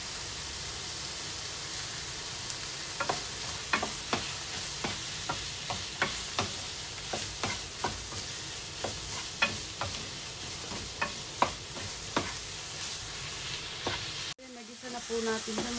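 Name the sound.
stirring sautéed mixture into lugaw rice porridge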